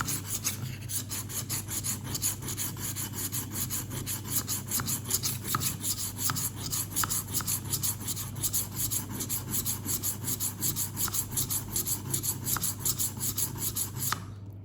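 A knife is sharpened on a rolling magnetic sharpener, with a steady rhythmic scraping and rasping that repeats in fast even strokes for many seconds under a constant low hum.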